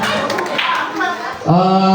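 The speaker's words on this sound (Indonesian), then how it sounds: "Beri tepuk tangan dulu untuk kita semua" A group applauds together during a scouting session, a dense burst of many hands clapping at once before a voice speaks over the end.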